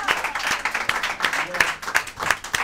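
A studio audience at a Turkish game show applauds with steady, fairly close, rhythmic clapping that carries on throughout while a voice talks over it.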